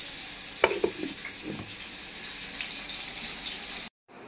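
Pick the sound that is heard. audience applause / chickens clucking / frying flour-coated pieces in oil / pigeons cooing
frying flour-coated pieces in oil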